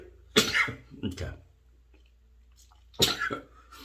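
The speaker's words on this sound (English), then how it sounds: "Excuse me, gotta sneeze." A person sneezes at close range twice, each a sharp burst separated by a quiet pause of a couple of seconds.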